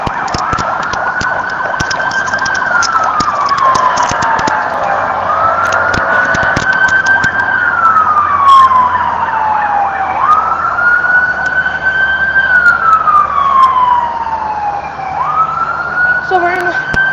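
Police car sirens wail at a Hong Kong street protest, several long rising-and-falling sweeps repeating loud and steady over a dense background of crowd and traffic noise, with some voices mixed in.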